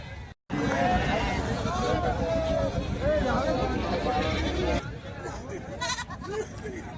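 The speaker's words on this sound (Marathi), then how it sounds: "शेळ्यांचा बाजार भरलेला आहे" Goats bleat repeatedly at a Sunday goat market in Shevgaon, overlapping calls mixed with busy chatter from many people nearby, the babble thinning toward the end.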